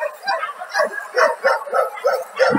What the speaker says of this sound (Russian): Собачульки наши.